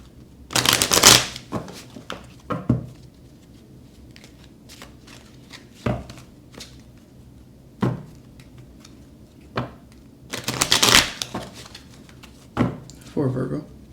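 Tarot cards being shuffled in a few crisp riffling bursts, close and fairly loud, separated by quieter gaps with soft handling taps.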